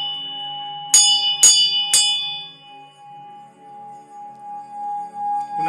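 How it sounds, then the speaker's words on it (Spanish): A Tibetan singing bell is struck three times in quick succession, each bright metallic strike leaving a long, steady ringing hum that lingers and fades slowly afterward. "Esta campana es una campana tibetana."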